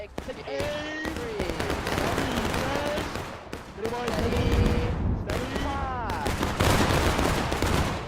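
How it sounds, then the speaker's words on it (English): Musket volleys crackle through an American Revolution battle video game, with bursts of gunfire scattered over several seconds, some overlapping and echoing, while a commentator talks over the action. "Firing towards the Americans on the rocks there"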